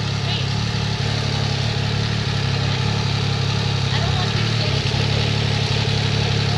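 A motorcycle engine idles with a steady low rumble, continuous and fairly close, while people talk over it.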